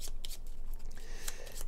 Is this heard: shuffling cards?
yes